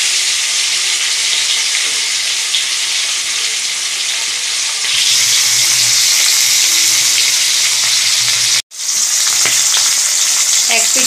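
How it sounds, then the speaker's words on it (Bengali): Fish pieces sizzle steadily in hot oil, a loud continuous crackling hiss that swells as more fish goes in, briefly cuts out, then resumes close and dense with occasional stirring. "অল্প অল্প করে মাছ ছাড়ি।"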